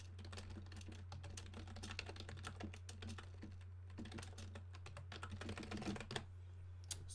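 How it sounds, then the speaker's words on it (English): Fast, steady clatter of computer keyboard keys as an email is typed, a quiet, close run of key presses with brief pauses and a low steady hum underneath, no speech. "Then you just type your email"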